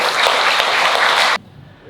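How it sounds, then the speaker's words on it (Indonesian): Audience applause at a formal event in Bali, a dense burst of clapping that stops abruptly partway through, leaving near silence. "Tepuk tangan untuk Bapak Aji"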